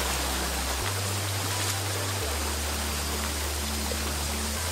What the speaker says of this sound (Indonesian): Itu ada air terjun mini ya,